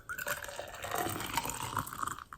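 Hot water poured out of a teacup while preparing Chinese white tea, a continuous close splashing trickle lasting a couple of seconds, alone with no talk.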